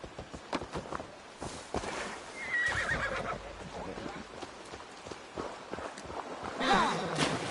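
A horse in Assassin's Creed Valhalla whinnies near the start and again near the end, with clip-clop hooves and footsteps throughout and a voice talking over parts of it.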